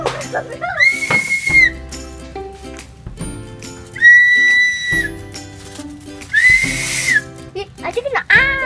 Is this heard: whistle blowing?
yes